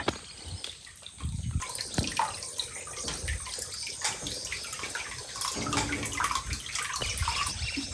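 Spring water at the source of the Sharavathi River at a temple flows and splashes continuously nearby, a steady gurgling rush with no voices.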